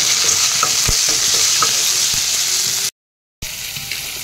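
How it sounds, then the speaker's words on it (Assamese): Fish seasoned with turmeric, salt and chili powder fries loudly in a pan with a dense, continuous near sizzle. It cuts out for half a second, then resumes just as steady, with no talking. "এইখিনি মই ভাজি লওঁ মাছখিনি"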